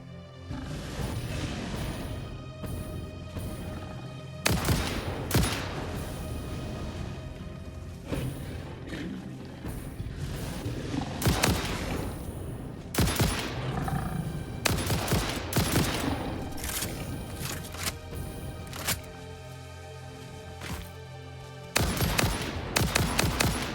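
Sustained automatic gunfire in the factory-building game Satisfactory, long dense volleys of shots with several loud bursts and brief lulls, close and continuous, with creature growls mixed in.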